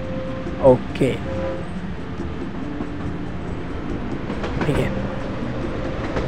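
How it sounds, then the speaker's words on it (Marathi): Train rolling along in the business simulation game Tycoon Empire, a steady mechanical rumble with faint rhythmic clatter running throughout, while someone speaks briefly over it. "ही जी ट्रेन जाती आहे आपल्या वेअर हाऊसकडे जाती आहे"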